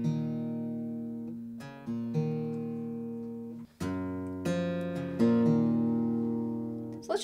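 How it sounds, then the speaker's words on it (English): A guitar plays a short phrase built from a quick hammer-on and pull-offs. Clear picked notes ring and fade in a few separate bursts, close and unaccompanied. "do a quick hammer on and pull off"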